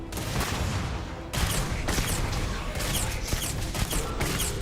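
Rapid gunfire from a weapon in the sci-fi video game Starfield, with dense, loud bursts of shots crackling almost continuously and a short break near the start.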